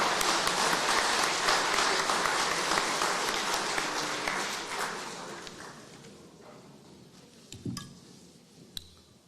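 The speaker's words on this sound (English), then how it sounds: "Let's have a round of applause for all our finalists." An audience at a regional sports awards ceremony gives a long round of applause for the finalists, dense and loud at first, then thinning out to a few scattered claps and a faint clink near the end.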